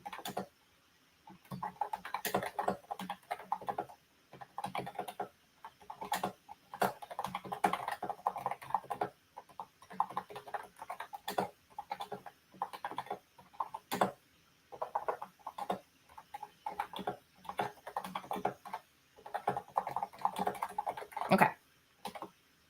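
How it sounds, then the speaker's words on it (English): Bursts of typing on a computer keyboard, rapid clicking keystrokes in repeated runs separated by short pauses, close and fairly quiet, with no talking. "I'm going to type this one out as I say it."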